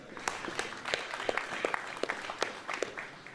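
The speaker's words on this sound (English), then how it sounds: "Can we please get a round of applause for our brilliant MCs today?" A modest burst of audience applause at a boxing press conference in Riyadh, scattered claps heard at moderate distance and fairly quiet, without speech over it.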